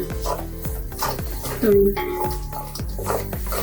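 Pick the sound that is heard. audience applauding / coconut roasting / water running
coconut roasting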